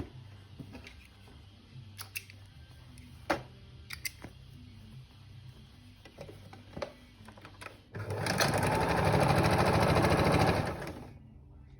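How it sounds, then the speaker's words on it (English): A sewing machine stitches fabric pieces together with an even seam allowance: a few brief clicks and taps first, then a loud, fast, steady run of machine stitching lasting about three seconds before stopping. "So then you're going to sew with the same seam allowance."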